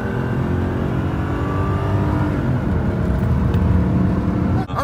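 A Toyota Chaser pulling away under hard acceleration, its engine roaring loud and continuous from inside the car as it builds speed, with no talk over it.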